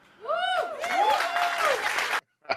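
Audience applause at a TED Talk about becoming an entrepreneur at 66, a dense burst of clapping from a crowd that builds and holds for about two seconds, then cuts off abruptly.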